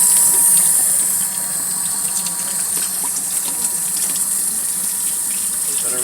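Water runs steadily from a faucet to rinse bleach out of a boy's dreadlock tips, a continuous close hiss that is loudest in the first second and then settles to an even flow.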